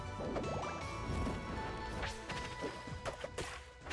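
Several down smash attacks in the video game Rivals of Aether, a quick jumble of crashing and splashing hits with sharp impacts toward the end, moderately loud amid game noise.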